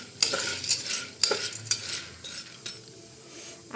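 Corn kernels roasting dry in a pan for popcorn, giving off scraping stirring sounds and light sizzling with sharp clicks and taps at irregular intervals, close and fairly quiet, with no talking.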